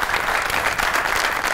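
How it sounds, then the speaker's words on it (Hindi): Studio audience at a Pakistani comedy talk show applauds two guests, a dense, steady burst of many hands clapping close and loud throughout, with no talk over it. "दोनों मेहमानों के लिए बहुत सी ताली।"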